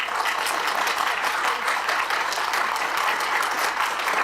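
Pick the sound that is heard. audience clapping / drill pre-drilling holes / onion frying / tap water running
audience clapping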